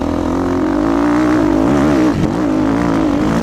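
A motocross bike's engine revs hard on a smooth dirt track, a loud, close, continuous buzzing drone whose pitch rises and dips with the throttle throughout.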